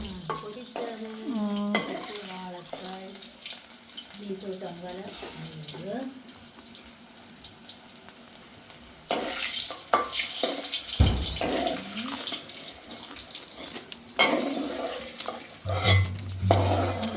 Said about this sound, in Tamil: வாழைக்காய் பொரியுது